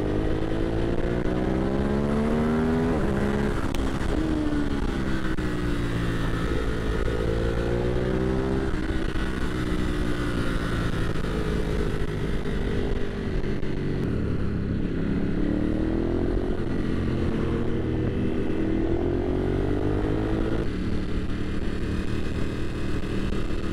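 A Ducati Hypermotard 950 RVE motorcycle rides along a road, its engine droning loud and steady, rising and falling in pitch through repeated revs and gear shifts.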